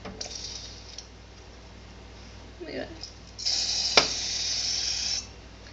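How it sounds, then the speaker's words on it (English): An aerosol cooking spray can hisses in short bursts, ending with a longer steady spray up close; faint voice sounds in between. "make sure you shake it up really good and you spray"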